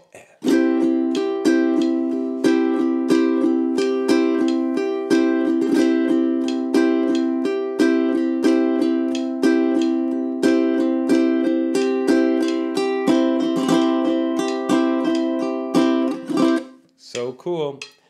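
Bright ukulele strummed in triplets, a steady, even pulse of quick repeated strokes, close and loud, ending with a brief flurry.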